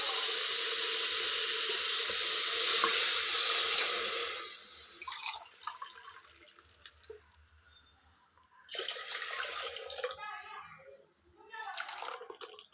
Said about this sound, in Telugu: త్రీ గ్లాస్ కొబ్బరి పాలు అయితే పోస్తున్నాను చూడండి